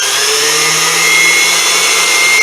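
Unimat SL1000 mini lathe running at 850 RPM while taking a cut in 954 aluminum bronze, a loud, steady whine and hum that holds unchanged throughout.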